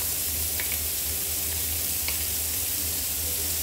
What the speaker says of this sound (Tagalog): Unahin natin sibuyas para medyo maggisa.